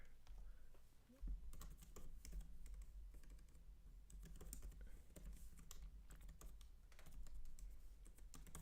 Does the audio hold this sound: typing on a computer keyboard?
yes